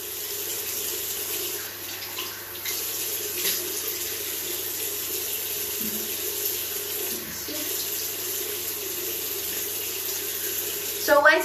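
Steady broadband water flow from a tap, running cold, continuous and fairly close for the whole stretch, with a brief louder splash or clatter right at the end.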